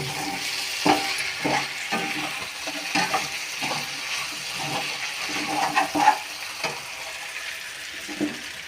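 Potatoes sizzle steadily as they fry in a pan while a utensil scrapes and stirs in short, uneven strokes, close by and with no one speaking.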